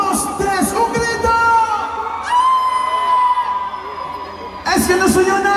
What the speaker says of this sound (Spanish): a la cuenta de tres. Solamente las mujeres bonitas. Una, dos, tres, un grito.